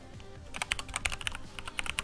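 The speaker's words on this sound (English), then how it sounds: "let's try some key testing" Rapid keystrokes on a Cooler Master x Racun Tech mechanical keyboard during key testing, a steady patter of sharp clicks and clacks at close range, with no talking.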